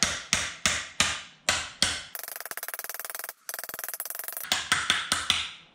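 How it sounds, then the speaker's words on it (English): A ground rod for a ZEB earthing install is hammered down into its socket: a run of evenly spaced heavy metallic blows, then a fast buzzing burst of rapid strikes, then more separate hits, close and loud with no speech. "Hit it down until it hits the bottom of that socket"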